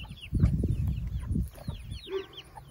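Black Copper Maran chickens clucking close by in a farmyard, several short overlapping clucks and chirpy calls with higher peeps scattered through, no talking.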